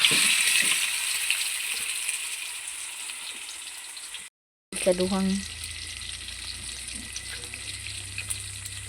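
Steady loud sizzling of food frying in a pan, briefly cut off, then resuming with clinks of a utensil and a short spoken word.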